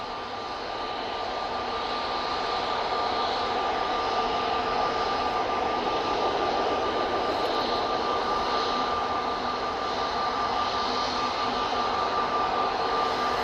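An easyJet airliner on its takeoff roll at Manchester Airport, bound for Amsterdam Schiphol, a steady broad engine roar heard from a distance, holding level and slowly swelling for over thirteen seconds.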